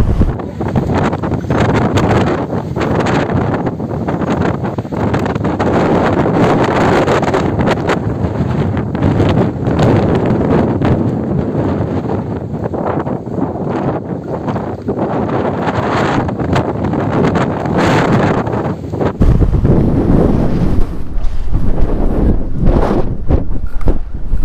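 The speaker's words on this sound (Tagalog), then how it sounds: "malakas pala hangin dito paghapon" Strong afternoon wind roars and buffets the microphone continuously near the water in San Nicolas, Pangasinan, loud and gusty throughout with rustling in the background and no clear speech.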